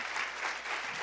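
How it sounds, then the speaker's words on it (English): A brief burst of audience applause at a church gathering, a dense wash of clapping that runs the whole short moment at moderate volume. "Come on, let's give a hand of applause"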